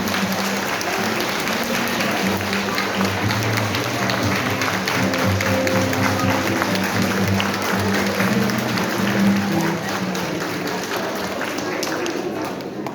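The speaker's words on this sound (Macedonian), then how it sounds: "со еден голем аплауз да ја поздравиме" A crowd at an end-of-school-year ceremony in Pehčevo applauds a student with steady, dense clapping that runs without a break for about thirteen seconds, with some voices mixed in.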